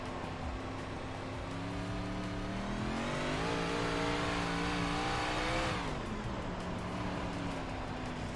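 Dirt race car engine in a racing video game at Weedsport, revving steadily and then rising in pitch as the throttle rolls on, a loud continuous drone with no talk.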